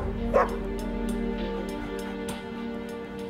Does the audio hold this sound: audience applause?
no